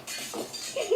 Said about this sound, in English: She's in there. I heard glass.